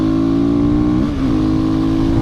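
A 2010 Husqvarna 510 SMR supermotard motorcycle engine drones loudly and close up, holding a strong steady pitch with a brief dip midway, as if shifting gear, before it settles again.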